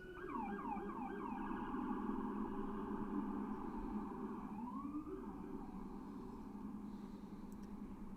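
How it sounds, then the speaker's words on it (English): Emergency sirens wail and yelp in the distance over rainy Manhattan, heard from a rooftop, several rising and falling tones overlapping steadily for several seconds, fairly faint. "Oh, let's listen to the sirens."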